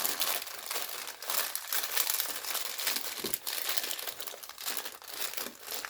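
Plastic grow bag folded down during spring seedling potting, giving a near, loud continuous crinkling and crumpling with brief dips, no talk.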